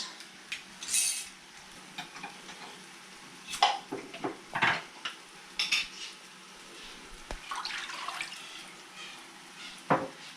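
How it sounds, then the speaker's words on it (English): Utensil scraping browned onions off a pan while making butternut squash soup, a series of short, close scrapes and clinks spread over the span, moderately loud with a faint sizzle underneath. "I'm going to scrape the pan off a little bit."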